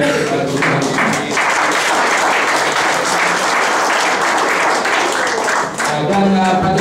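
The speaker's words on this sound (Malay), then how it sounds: "kita bagi satu tepukan lagi kepada Dr." An audience at a health talk on stem cells and diabetes gives a doctor a loud, sustained round of applause. The clapping is dense and continuous, with a voice faintly audible beneath it near the end.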